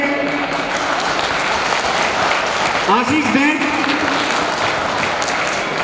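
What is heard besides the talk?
audience applause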